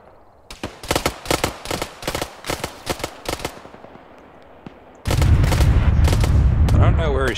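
Video game gunfire sounds as a rapid string of sharp, loud shots in quick bursts, followed by a heavy, sustained rumbling blast, all close and dominant, with no talk over it.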